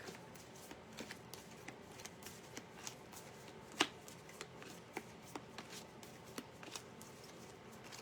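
Soft, repeated riffling and flicking of a deck of cards being shuffled, close by, with a steady rhythm and one sharper snap partway through, in an ASMR setting.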